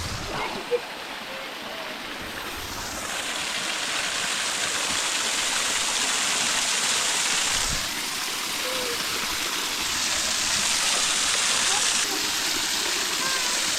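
Steady broadband rush of a waterfall and stream at DeSoto State Park, continuous and close, filling the whole stretch with a constant roar and no clear voices.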